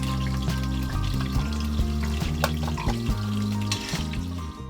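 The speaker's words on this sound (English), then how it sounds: "we're gonna add just a nice big bunch of sage" A big bunch of sage leaves sizzles and crackles steadily in hot oil in a pot for butternut squash soup, a loud, continuous close fry with no talking.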